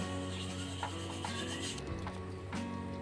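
A spoon scrapes and rubs around the bottom of a pot of sago khichdi in repeated strokes, close and clear, over a steady background hum.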